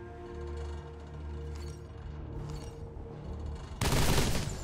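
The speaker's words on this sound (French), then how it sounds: "c'est un canon anti... mitrailleuse anti-émeute" Rapid automatic gunfire from an anti-riot machine gun in Death Stranding Director's Cut, muffled under a steady hum, then a sudden louder burst of shots near the end.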